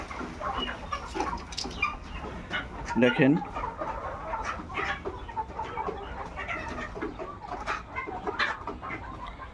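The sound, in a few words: white layer hens clucking on a poultry farm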